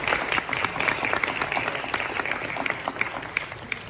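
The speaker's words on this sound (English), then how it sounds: "So first I want to give you all a round of applause." An audience at a town hall meeting on police accountability gives sustained, even applause, a broad wash of clapping heard from a distance throughout.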